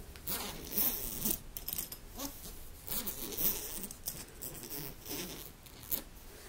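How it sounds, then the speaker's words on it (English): Zipper on a travel bag being slowly opened and closed, close and crisp, with several rasping pulls and soft fabric handling in a quiet room. "and also on a plane which is why there is this zipper here"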